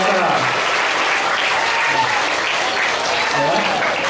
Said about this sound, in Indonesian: Tepuk tangan untuk adik-adik kita ya